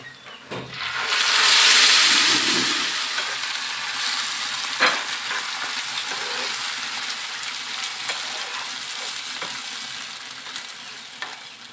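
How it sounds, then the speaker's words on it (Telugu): Mashed dal poured into a hot oil tempering with curry leaves, hissing in a broad steady sizzle that swells loudly at first and then settles into a continuous fry with occasional stirring clinks. "ఇలా పోపు అంతా వేగాక దీంట్లో ముందుగా మెదుపుకున్న పప్పు వేసేయాలి"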